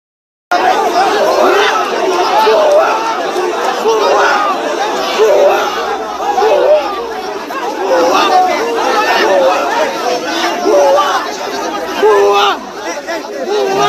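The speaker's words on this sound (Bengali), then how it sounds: "এ সময় শিক্ষার্থীরা হাসনাতকে উদ্দেশ্য করে ভুয়া ভুয়া এবং এসেছে রে এসেছে ফুটেজখোর এসেছে স্লোগান দেন" A large crowd of students shouts 'bhuya' slogans at Hasnat Abdullah, loud, dense rhythmic chanting and babble that carries on steadily for the full stretch after a moment of silence at the start.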